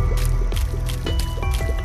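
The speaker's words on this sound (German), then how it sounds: "Jetzt schieße ich mit Piss." Yellow urine tear shots in the video game The Binding of Isaac land as a quick rhythmic run of soft wet splats and drips, roughly four in under two seconds, over a steady low game music bed.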